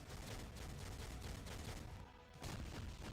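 Explosive Bombardment skill in the Marvel Future Fight game: a dense, loud barrage of blasts and crackling bursts that briefly drops away, then surges back.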